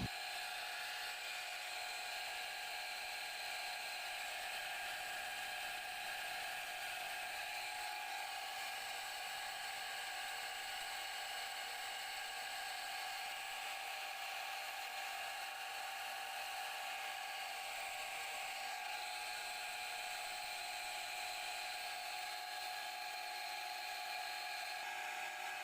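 A repaired water pump runs continuously, a steady, quiet mechanical whine and hum that holds unchanged throughout with no voices.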